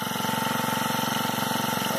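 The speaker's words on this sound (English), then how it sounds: "obviously prime it a couple pumps with the primer bulb, and then just starts right up pretty easily" A Honda GX25 small four-stroke engine on a rear-mounted motorized bike runs steadily after being primed and choked, giving a continuous close, even putter with a fast pulsing rhythm and no talk.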